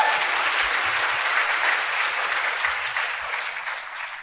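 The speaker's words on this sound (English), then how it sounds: "Just clap your hands if you're giving up your time." An audience at a public meeting about a data center claps, dense steady applause from a room of people that stays loud and slowly thins toward the end.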